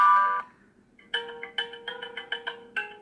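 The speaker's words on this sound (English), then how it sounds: "Sounds like a phone bell." A nixie tube clock alarm plays a phone-ringer tone: after a short opening tone and a pause, a rapid series of bright, bell-like electronic trills rings close and clear, with no voices.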